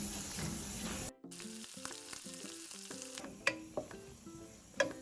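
Garlic sizzling in melted butter in a saucepan for a creamy Alfredo white sauce, a steady soft hiss broken by a brief silent gap, then clinks of a utensil and a couple of sharper pops near the end.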